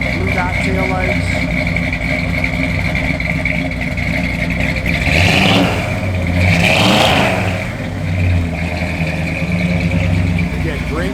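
A 1953 Ford F1 pickup truck's engine idles steadily and close, then revs up twice in the middle before settling back to a rumbling idle.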